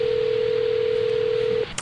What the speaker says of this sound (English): cell phone ringback sound, the sound you hear in between dialing a number and the other person picking up